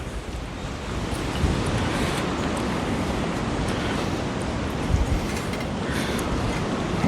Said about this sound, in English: oh boy, it is windy as all get out here.